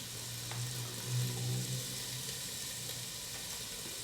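Muttonbirds and chopped garlic frying together in a pan give a steady, soft sizzle with a faint hiss, fairly quiet and continuous, swelling briefly as the pieces settle.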